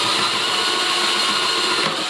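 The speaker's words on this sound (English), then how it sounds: "I drilled a 1/2 inch hole for that" A drill boring a 1/2 inch hole through a bowl for a DIY studio light reflector, a steady loud whining grind that holds continuously with no pauses.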